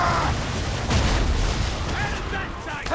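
Booming cannon fire from an Assassin's Creed 3 naval battle rumbles loud and heavy in close succession, with someone shouting over the barrage.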